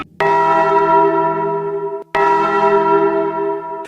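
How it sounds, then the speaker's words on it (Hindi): Temple bells ring together in two loud struck peaks, each leaving a long shimmering metallic resonance that slowly fades before the second strike rings out again. "मंदिर की सारी घंटियां एक साथ बज उठीं"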